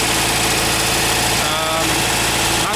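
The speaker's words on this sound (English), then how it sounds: "but this engine works just beautifully." A 1974 VW Westfalia camper with an automatic transaxle idles steadily at the rear engine, a loud, close, even rumble with a fast regular pulse and slight vibration throughout.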